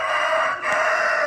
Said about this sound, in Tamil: ஏதோ ஃபாரின் சேவல் மாதிரி இருக்குது